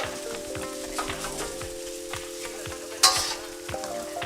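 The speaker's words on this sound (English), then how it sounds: "my fried rice back to this bacon fat so that we can sear it." Fried rice searing in liquefied bacon fat in a cast iron skillet, with steady crackling sizzle, intermittent stirring scrapes and taps, and a sharp clank near the end, close and moderately loud.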